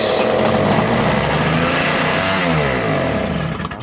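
A Toro Powerlite 3HP 16-inch snowblower with a Tecumseh engine runs loud and close, a steady buzzing two-stroke drone that wavers slightly in pitch and dips briefly at the end.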